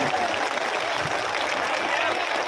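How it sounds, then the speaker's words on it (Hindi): Crowd at a Bahujan Samaj Party election rally in Ashoknagar, Madhya Pradesh, clapping to welcome Mayawati, a continuous loud patter of many hands, partly mixed with amplified voice and crowd noise. "आप सभी लोग हमारे बहन जी का ताली बजा करके एक साथ स्वागत करेंगे"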